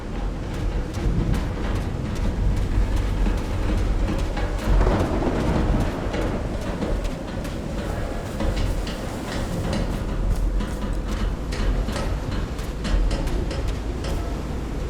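Thunderstorm with rain in the video game Call of the Sea: steady heavy rainfall with crackling thunder rumbles and sharp cracks throughout, loud and close, with no voices.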